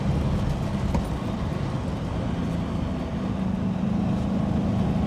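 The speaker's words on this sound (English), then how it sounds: "there's a lot of wind noise even at this speed" Inside a Reliant Scimitar travelling just above 50 mph, a steady broadband roar of wind and road noise fills the cabin, constant and fairly loud throughout.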